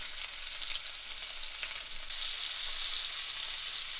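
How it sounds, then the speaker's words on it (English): Salmon sizzling flesh side down in a hot pan, a continuous crackling hiss of frying oil, close and steady with no talking. "So I want to go flesh side down. Nice sizzle."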